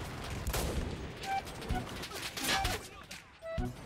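Gunfire in the World War II shooter Enlisted: rapid bursts and scattered shots, some near and punchy, others distant, mixed with voices talking throughout.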